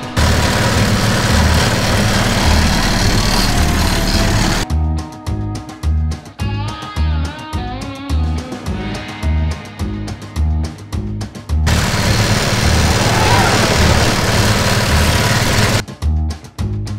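Small gasoline engines of the Gasoline Alley car ride at Knoebels amusement park run loud and close, a rough sustained drone alternating with choppy, sputtering pulses as the cars idle and move, with no talking.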